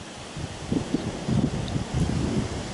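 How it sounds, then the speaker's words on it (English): Steady autumn wind blowing outdoors through a dahlia garden, with gusty rumbles buffeting the microphone and a faint rustle of leaves, no voices. "Well, they said it was going to get windy"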